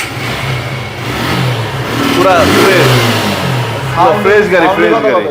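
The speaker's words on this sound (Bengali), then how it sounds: "গাড়ি সাউন্ডই কথা বলবে" A used motorcycle in fresh condition, about 16,000 km on it, revs up twice in short bursts close by, with someone talking over the engine.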